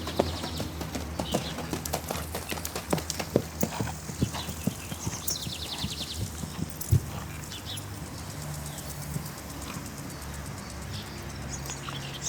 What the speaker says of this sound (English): listen to the sounds made by the horse's hoofs